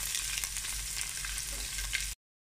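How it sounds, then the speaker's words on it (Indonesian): Onion and garlic hit hot oil in a pan, giving a dense, loud, continuous sizzle up close for about two seconds before cutting off abruptly. "mainit na tong mantika natin kamsat. Lagay na natin yung sibuyas saka bawang,"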